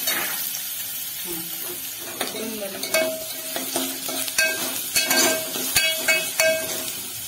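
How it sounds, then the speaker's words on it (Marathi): Finely chopped onion fries in a pan for a drumstick curry and is stirred. A soft sizzle runs underneath while a utensil scrapes and knocks against the pan in irregular strokes, close by. "आता कांदा आपल्याला पूर्ण लालसर होईपर्यंत भाजून घ्यायचा आहे व्यवस्थित।"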